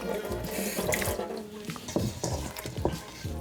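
A kitchen tap runs steadily to wet hands while folding potato, onion and dill sourdough, with splashing and changing water flow close by over the whole stretch.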